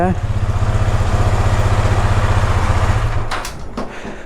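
A KTM motorcycle with an engine problem idles in neutral, its close, loud, rapid pulsing chug running steadily for about three seconds before it cuts off, followed by a few clicks.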